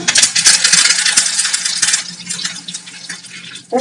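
Mustard seeds, cumin and curry leaves dropped into hot oil, a loud, bright, crackling sizzle with popping spatters that eases off slightly before a fresh burst at the end.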